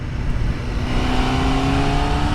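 A 2020 Honda Fireblade motorcycle pulls hard in third gear at full throttle, its engine note climbing steadily as it accelerates, loud and close with heavy wind rush.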